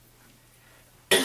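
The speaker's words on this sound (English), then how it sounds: "excuse me, sorry, I had to cough." A single sharp cough bursts out loud and close at the end, after a near-silent stretch, from a senior woman recording an oral history.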